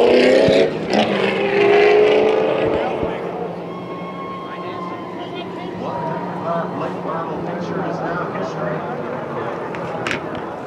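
A late model race car at Irwindale Speedway on its victory lap after a short-track race roars loudly as it passes close by, then its engine drones on at a distance while an announcer talks over it.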